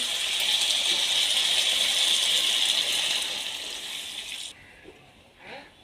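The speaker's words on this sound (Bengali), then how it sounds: "এবার জল দিয়ে দেব।" Water pours steadily into a pot of cauliflower and meat curry, a loud continuous splashing gush for several seconds that tapers off and stops, followed by a brief soft clatter.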